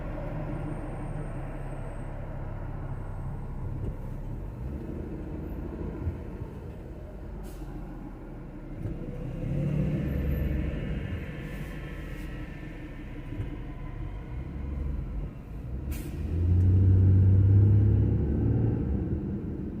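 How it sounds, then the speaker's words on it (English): Street traffic on Pico Boulevard in Los Angeles, with cars and heavier vehicles rumbling steadily nearby, the low engine noise swelling as vehicles accelerate past and surging loudest near the end. "Pico traffic usually gets a little congested right around here."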